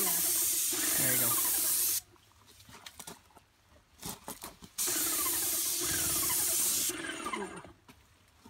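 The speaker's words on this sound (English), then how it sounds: "Just keep spraying." A Graco Project Painter Plus electric paint sprayer hisses in two long loud bursts with a gap of quieter clatter and movement between them, recorded up close.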